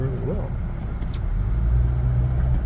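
A 2007 Honda Civic with misfire and hesitation problems drives along, its engine a steady low rumble from inside the cabin, with a voice talking over it.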